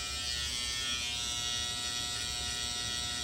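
A BaBylissPRO GOLDFX outlining trimmer buzzes steadily and close while trimming hair, a continuous high-pitched electric hum with no pauses.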